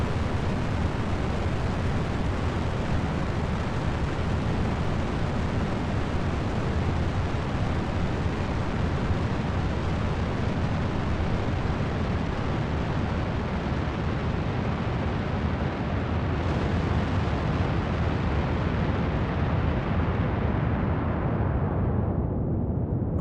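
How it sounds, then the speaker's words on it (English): A rocket engine in Kerbal Space Program roars steadily and loudly off the launch pad, a dense, rumbling broadband blast that holds for over twenty seconds before thinning and fading at the end. "This thing got off the pad a lot faster than it normally does."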